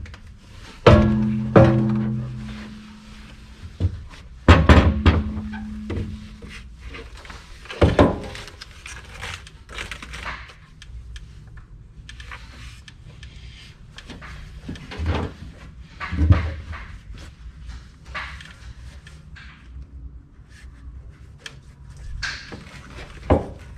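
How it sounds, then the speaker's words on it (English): On a wrecker build, a winch is dropped into place as heavy metal thunks and clanks land irregularly, several loud knocks scattered among quieter scraping and handling noises close by. "See if I can get these bolts to line up and drop this winch in to there"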